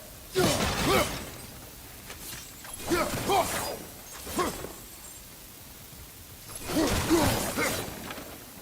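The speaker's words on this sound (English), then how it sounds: "back to smashing through things for fun and profit" Objects smashed and shattering while exploring in God of War Ragnarok, heard as three or four separate bursts of crunching, breaking debris with gaps of quiet between them, mid-distance and moderately loud.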